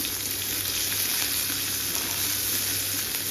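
Onion, garlic and green chili frying in a pan for Chinese-style Maggi noodles, a loud, dense, continuous sizzle that holds steady throughout, close by and with no voices.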